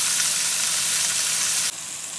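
Pork ribs sizzle and fry as they brown in a hot pot, a dense, steady hiss close up that drops abruptly to a quieter sizzle near the end, with no voices.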